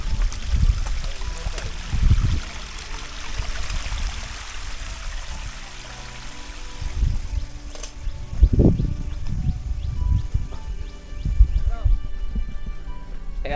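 Water from a small cascade on a trek to Damtua Waterfall in Bandarban hisses steadily in the background. Intermittent low thumps and handling noise rise over it, with indistinct voices at times.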